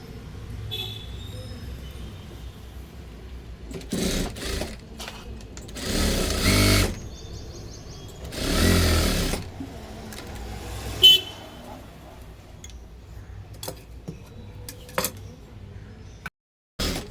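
A sewing machine stitches blouse fabric at two marked points, running in steady bursts of motor whir with short pauses between runs and no voices over it.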